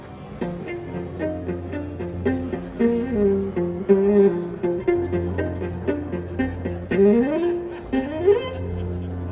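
A physically modeled bowed string instrument, the Expressive E Arché emulation, plays sustained notes with smooth slides between pitches, close and alone, with a slightly synthetic tone.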